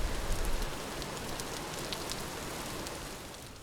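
Steady rain falling in the survival game Vintage Story, a dense even hiss of drops with scattered brighter patters, heard alone with no talk.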